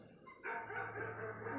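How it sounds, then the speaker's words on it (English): A dog barks in a short, steady burst played as an animal-sound example, fairly faint against a quiet background. "Dog."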